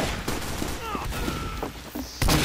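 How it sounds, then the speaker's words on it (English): Gunfire in the shooter game Team Fortress 2, a short spray of shots and impacts over a busy game soundscape, with a louder burst at the end and some talk mixed in. "Is somebody shooting at me?"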